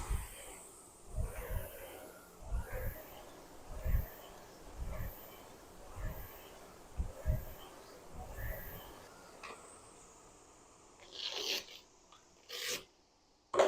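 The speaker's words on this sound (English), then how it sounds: "because this is an air rower, obviously there's going to be a little sound to it" A MERACH Nova R50 air rowing machine on level 10: a rhythmic whooshing rasp repeats roughly every second, steady and fairly close, with a couple of louder bursts near the end.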